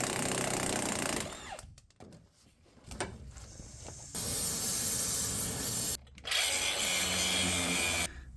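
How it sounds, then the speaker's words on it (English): A power cutting tool grinds through a rusted bolt on a 2003 Ford Excursion during a leaf spring replacement. The loud, hissing, abrasive roar comes close up, broken by a few brief pauses and clattering restarts. "Had to cut my bolt off."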